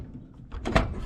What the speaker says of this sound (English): Let's see if the door closes there.